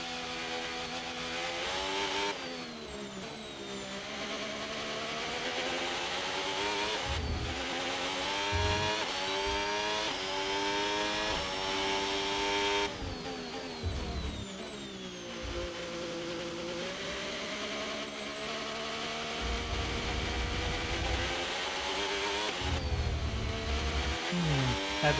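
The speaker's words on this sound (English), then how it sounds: "That engine is screeching" A Formula 1 car's engine in the F1 25 video game, set on the Shanghai circuit under 2026 season rules, screams continuously at high revs, rising and falling in pitch through gear changes across the whole stretch, with no talk.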